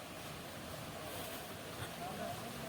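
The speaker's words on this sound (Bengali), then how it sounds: "সত্যি জলের আওয়াজ কিন্তু প্রচণ্ড আসছে ওই দিকে এখনো জল বয়ে যাচ্ছে" Strong rushing water flows through a channel outdoors, a steady broadband wash with wind buffeting the microphone throughout.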